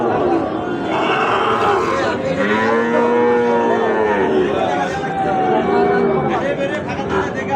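Loud, drawn-out moos from Sahiwal bulls rise and fall over a busy cattle-market crowd murmur, with people chattering close by.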